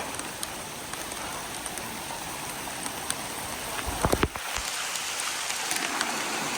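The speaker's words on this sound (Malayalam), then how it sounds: "അത്യാവശ്യം നല്ല മഴയുണ്ട്." Steady rain pours over a hillside trail during an early-morning trek up Koonichi Hill, a dense even hiss throughout with a few close thumps and knocks partway through.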